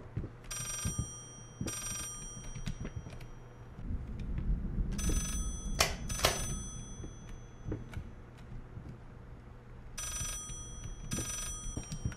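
A telephone rings in the horror game Layers of Fear, its repeated bursts of bell tones coming in clusters against a low droning ambience with scattered thumps and creaks.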